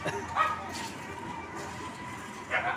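Dogs confined in a cage bark and yelp in short bursts, a sharp cluster near the start and another at the end, set against a busy, dramatised comic-story soundtrack.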